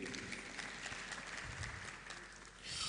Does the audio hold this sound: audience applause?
yes